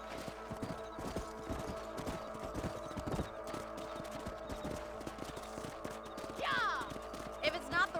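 Horse hooves clopping in a steady rhythm in Red Dead Redemption on PS5, with a rising whinny near the end and another short neigh after it, mixed with a quieter game soundscape and a voice talking in the background.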